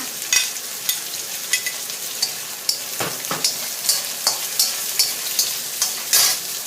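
Garlic, chili, ginger and eggplant stir-fried in a pan: a constant sizzle broken by regular sharp scrapes and clacks of a spatula, close and fairly loud, with no talking.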